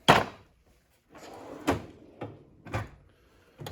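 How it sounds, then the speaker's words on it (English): Metal drawer in a small engine repair toolbox sliding open and shut, a sharp clack followed by a rolling glide and several knocking bumps, close by and alone. "Moving down another drawer,"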